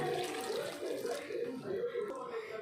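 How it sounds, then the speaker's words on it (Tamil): Tumbler of water pours into mutton curry in a pressure cooker, a steady splashing gush lasting about two seconds at moderate volume with a voice speaking over it. "இதில் ஒரு டம்ளர் தண்ணி ஊற்றிக்கலாம்"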